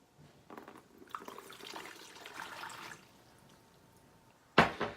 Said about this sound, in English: we're going to add 2 cups of water